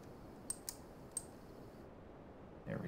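Three sharp computer mouse clicks, two close together then a third, loud against a quiet room hiss, with no talking.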